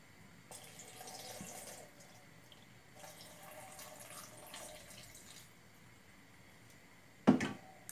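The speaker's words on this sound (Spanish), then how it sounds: "Vamos a poner media taza de agua." Half a cup of water runs from a tap or is poured into a pan for a broth for stuffed huauzontles, a quiet splashing trickle in a few short bursts ending with one louder splash.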